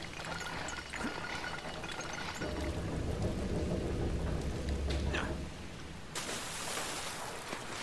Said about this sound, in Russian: Налить воды хочу.